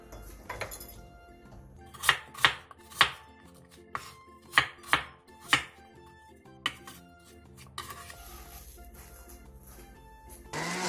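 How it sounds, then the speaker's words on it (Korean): A knife chops red chili peppers and apple steadily on a cutting board, a series of sharp knocks in quick clusters, close up, with quiet clinks between. "홍고추 7개와 사과 2분의 1개를 갈기 좋은 크기로 큼직하게 잘라주세요."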